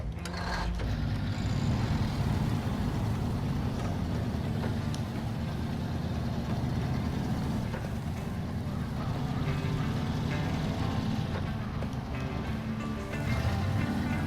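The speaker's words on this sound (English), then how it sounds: "Let me stop the engine a sec." A FleetStar F2070A truck engine idles and runs steadily in the Snowrunner video game, a constant loud, low rumble that holds without break from start to finish.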